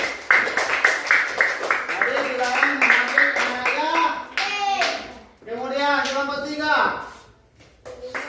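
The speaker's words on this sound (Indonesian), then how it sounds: "Tepuk tangan." Children in a classroom clap their hands in quick rhythmic bursts, the claps strongest at the start and then blending with loud, sing-song children's voices chanting along.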